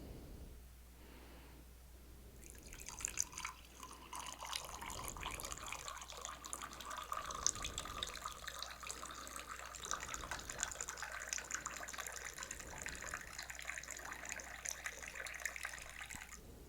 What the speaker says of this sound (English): So I will fill up my water with some lemon.